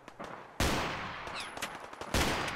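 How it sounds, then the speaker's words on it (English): Modded 10mm pistol gunshots in the Fallout 4 video game, with two loud, sharp blasts about a second and a half apart, each followed by a ringing tail. "Isn't that how the gun sounds? It sounds so much better."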